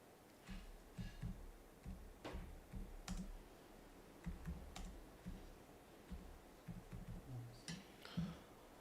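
Fingers tapping out a message on a keyboard, quiet close clicks in quick irregular bursts separated by short pauses, with a few louder isolated taps.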